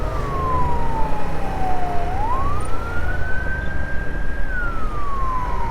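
An ambulance siren wails in a slow rising and falling sweep over traffic rumble, moderately loud and passing nearby.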